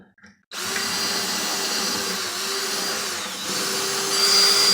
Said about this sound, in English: And I just work the drill back and forth like that.